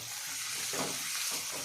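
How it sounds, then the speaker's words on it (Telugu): Onions with a little salt frying in a pan, a brief close, steady sizzle and hiss with a soft stir in the middle. "ఆనియన్ ఫ్రై అయ్యేటప్పుడు కొంచెం సాల్ట్ వేసుకున్నాము, త్వరగా ఫ్రై అవుతాయి"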